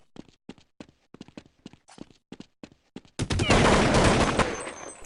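Counter-Strike gunfire on the de_tuscan map during a Na'Vi vs Fnatic DreamHack 2011 match: a rapid string of sharp single shots, then a sustained loud automatic spray.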